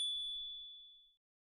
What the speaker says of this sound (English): This is a nice bell.